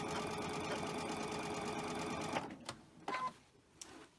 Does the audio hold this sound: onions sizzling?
no